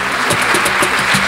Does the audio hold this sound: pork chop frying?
no